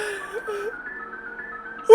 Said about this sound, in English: the screen would change to a background consisting of rows and rows of Sonics with creepy human-like faces wagging their fingers